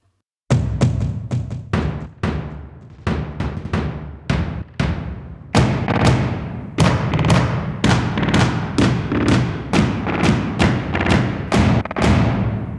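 Drum hits from the Sample Logic Drum Fury Motion library, a run of loud punchy percussion strikes with booming low ends, first spaced and irregular, then settling into a fast steady rhythm of repeated hits.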